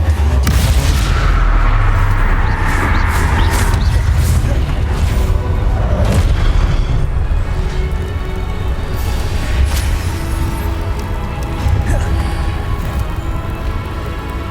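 Confringo blast spells exploding in Hogwarts Legacy, repeated loud booms and crashes over a constant rumbling battle din, with a voice speaking briefly under the blasts.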